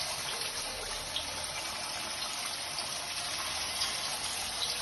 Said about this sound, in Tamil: இப்போ வந்து நம்ம பொறிப்போம்